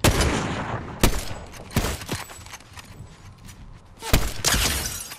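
Gunfire in the Fortnite video game comes as several loud, sharp shots at irregular intervals, with two dense bursts near the start and end, while faint gameplay noise fills the gaps.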